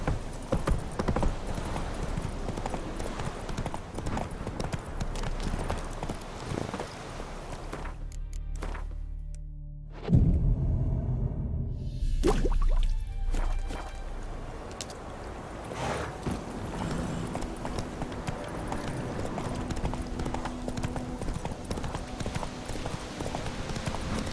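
A horse's hooves clip-clop in a steady trot in The Witcher 3 video game, rhythmic and close, briefly dropping away midway before resuming with ambient game sound.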